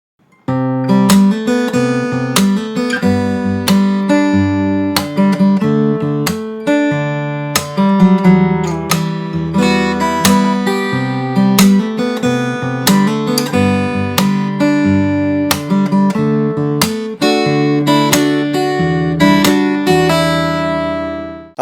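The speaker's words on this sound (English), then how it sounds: "I'll play the whole thing once again just to recap." Fingerstyle guitar plays the first half of the verse of a song, a steady flowing run of plucked chords and melody notes, close, full and continuous for about twenty seconds before stopping.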